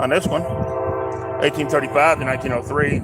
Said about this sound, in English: Sorry about the train and the wind.